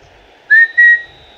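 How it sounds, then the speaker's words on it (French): A referee's final whistle in a Football Manager 2015 match sounds as two sharp, loud blasts, a short one and then a longer one, clear against near silence. "Le sifflet, c'est terminé."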